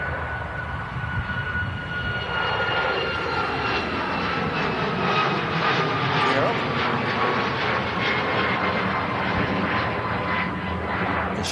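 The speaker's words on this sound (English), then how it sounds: "Ryanair 737 Max 8200." A Ryanair Boeing 737 Max 8200 jet airliner passes with a loud, sustained engine roar.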